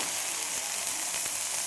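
Green chillies sizzling in hot oil as tempering for a drumstick-flower dish, a steady close hiss with faint crackles, no voices.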